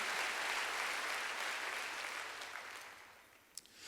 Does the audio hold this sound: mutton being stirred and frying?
no